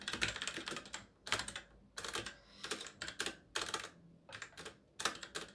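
Computer keyboard typing while TypeScript code for an Express API is written, in quick clattering bursts separated by short pauses, close and fairly quiet with no talk.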